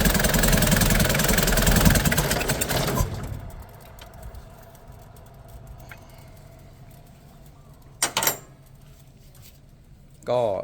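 A Nissan Big M pickup's BD25 diesel engine idles roughly with cylinders two and three not firing, loud and close at first, then a low uneven running murmur with brief louder bursts near the end.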